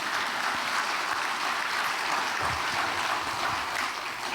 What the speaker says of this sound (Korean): 박수 치려면 좀 잘 치고.